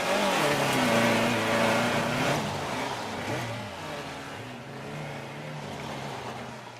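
A car engine revs and pulls away in Baja, Mexico, a loud close drone rising and falling in pitch and fading slightly as it drives off.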